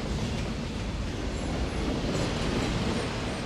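Inside the cab of the Golden Chariot luxury train's locomotive, a loud, steady rumble and roar of wheels running on rails continues without a break, with no voices.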